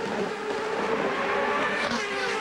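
CART Indy race cars at the 1999 Long Beach street race, a dense, continuous high-pitched engine scream as several cars run close together, with a rising whine near the end.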